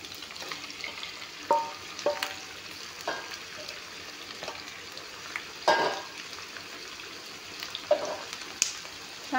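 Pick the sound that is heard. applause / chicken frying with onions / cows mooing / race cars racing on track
chicken frying with onions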